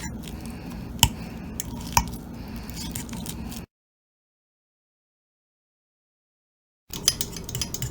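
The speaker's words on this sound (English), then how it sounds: "Now I have to mash up the bananas." Bananas are mashed in a mug with a utensil, giving soft squishy scraping with a few sharp clinks against the mug, followed by a silent gap before the mashing resumes.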